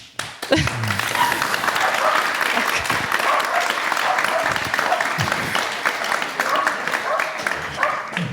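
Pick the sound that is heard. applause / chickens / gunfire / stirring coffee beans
applause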